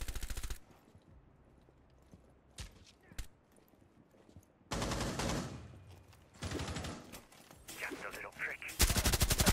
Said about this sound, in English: Good shooting, Deems.